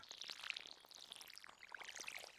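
Watering crops in Stardew Valley: a soft, steady trickling pour dotted with bright droplet plinks, fairly quiet and unbroken, with no talking.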